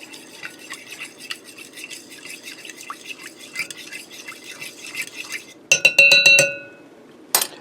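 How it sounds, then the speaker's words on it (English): A spoon stirs milk into a beef pot pie mixture in a pressure cooker, making a run of soft, repeated scraping strokes. These end in a cluster of sharp metallic clinks against the pot. "I'm just going to give that a quick stir to get everything mixed together."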